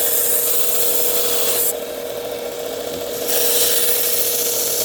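A pocket knife blade has clean bevels ground into it, a steady abrasive rasp that runs continuously and loud, easing slightly in the middle before rising again, with no talk.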